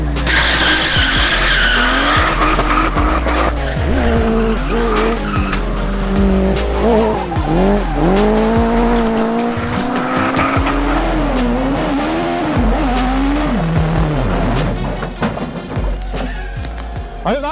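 A Hayabusa-powered grass track buggy driving hard on tarmac, its high-revving engine rising and falling while the tyres squeal and skid almost continuously, loud and close, easing slightly just before the end.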